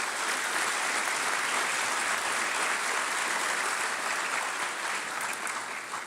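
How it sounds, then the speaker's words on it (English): An audience at an awards-of-excellence event gives sponsors a sustained round of applause, a dense, even roar of clapping that tapers slightly at the end. "let's just kind of give them a round of applause if we could"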